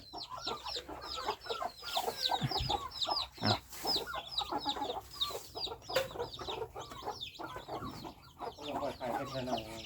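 Chickens on a farm cluck and chatter in a busy, overlapping flock, close and fairly quiet, with a few louder squawks and occasional human talk mixed in.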